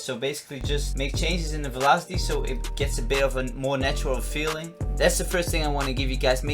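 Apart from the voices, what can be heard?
No distinct noise like a dog, phone or traffic.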